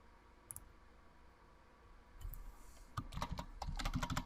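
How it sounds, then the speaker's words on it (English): Typing on a computer keyboard: a couple of faint isolated key clicks at first, then a flurry of quick, close keystrokes building toward the end over quiet room tone. "Type in address in the search."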